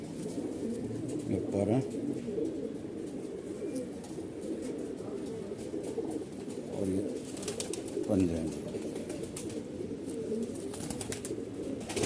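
Malwai Punjabi and Madrasi pigeons coo in repeated low throaty bursts while someone talks over them nearby.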